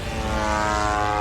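Steady droning buzz of an attack drone over Moscow during the Russia–Ukraine war, a continuous engine or propeller whine that stays loud and even throughout with no voices.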